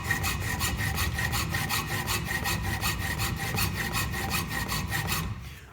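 Hand saw strokes rasping steadily through a piece of pewter clamped in a vise, a close, loud, rhythmic back-and-forth cutting that runs continuously before stopping at the end.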